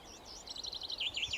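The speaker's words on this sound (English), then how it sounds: "Just listen to the birds for a minute." Birdsong outside a rural Irish cottage: a run of faint, high, repeated chirping phrases at a steady pace, sitting above a quiet outdoor background with no talking.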